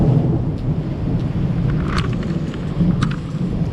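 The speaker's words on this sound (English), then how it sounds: "Hey, it's raining." Steady rain over an outdoor camp, a dense continuous wash of loud low rumble with a few brief sharper patters, no talking.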